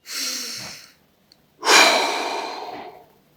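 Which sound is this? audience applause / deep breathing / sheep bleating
deep breathing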